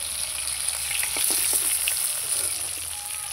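Katla fish frying in oil makes a dense, close, continuous sizzle with faint crackles and light stirring scrapes, steady and unbroken without any talk.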